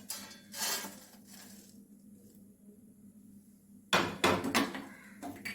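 Freshly roasted oats scraped and tipped from a pan into a bowl for a healthy drink: a couple of brief clatters, a quiet pause, then a louder burst of rattling and clinking utensil knocks.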